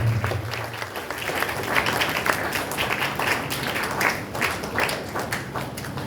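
Audience applause at a church feast event, a dense sustained wash of many hands clapping at steady loudness, with a brief low hum at the start.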